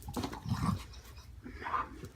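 A dog reacting to a fidget spinner with soft whimpers and low huffing, panting sounds in a couple of short bursts, close by and fairly quiet.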